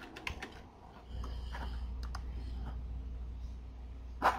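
A password typed on a computer keyboard, a quick run of soft key clicks early on, then a low steady hum with a few scattered taps and a final click.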